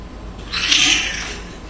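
Cat meow digitally resynthesized and exaggeratedly stretched, a single drawn-out, smeared tone that swells and fades over under two seconds, heard alone.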